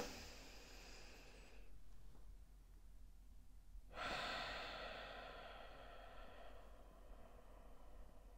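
Slow, audible breaths during a breathing exercise: a long airy exhale fades to near silence, then a sharp, noisy inhale begins and continues softly, close to the microphone with no talking.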